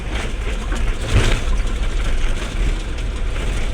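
A motorcycle engine idles close by, a loud, steady low chugging drone with a brief swell of revs partway through, and no talking.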